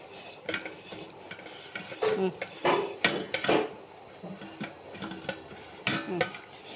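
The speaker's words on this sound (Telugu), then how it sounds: "గిన్నె తిప్పుతున్నా నీకోసం" A dog's metal bowl clatters and scrapes against a hard surface as it is turned, in a series of irregular knocks and rattles, fairly close.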